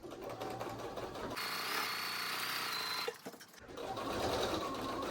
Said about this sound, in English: we're gonna sew those edges, again with the 1/2 inch seam allowance. Making sure to back stitch as you go.